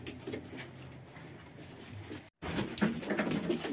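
Pigeons coo steadily inside a coop, a close, continuous murmur of soft calls with a brief dropout midway before the cooing swells again.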